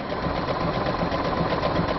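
A sewing machine runs at a steady pace, its rapid, even mechanical chatter continuous and close for the whole moment.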